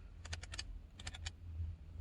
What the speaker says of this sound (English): not the computer that I'm typing on